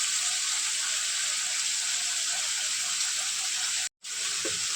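Chicken meat frying in a pan with turmeric sprinkled over it, a steady loud sizzle running throughout with one brief cut near the end.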